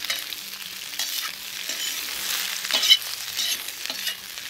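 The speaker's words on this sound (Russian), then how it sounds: "Теперь отправляем сюда лук с перцем. И также это все обжариваем." Onion and pepper with ginger, garlic and chili frying in a cauldron over a campfire, giving a steady close sizzle with light stirring clinks and crackles and no talk.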